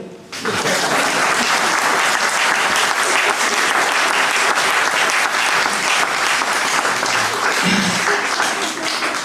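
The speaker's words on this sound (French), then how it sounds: "Vous pouvez applaudir." A crowd at a French gathering on pensions and healthcare applauds, a loud, sustained wall of clapping that begins sharply and holds steady for several seconds.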